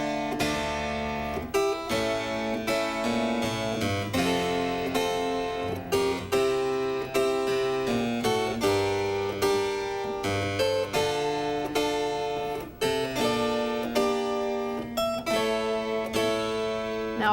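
A keyboard instrument with a lute stop plays measures on a single set of strings. Bright plucked notes run in steady, ornamented phrases, clear and close, with no voices.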